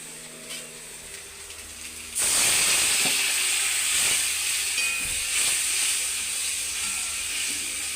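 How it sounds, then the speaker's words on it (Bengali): Water hits a pan of frying chilli after a quiet moment, bursting into a loud, sustained hiss and sizzle that slowly settles while staying steady to the end. "এবার জল দিয়ে দেবো আমি"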